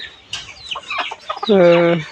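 Layer hens in a coop give short clucks and then one sustained loud cackle, close by, with faint background voices.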